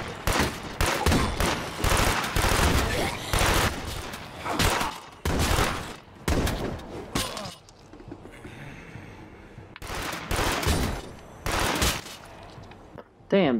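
Rapid enemy gunfire in State of Decay 2, loud sustained bursts of automatic shots with a brief lull in the middle before firing resumes, close and harsh.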